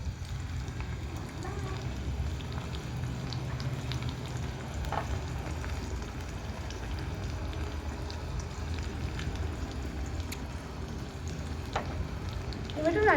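Sliced onion and green chilli frying in a pan with salt and turmeric, a steady close sizzle and crackle with occasional sharper pops, continuous throughout.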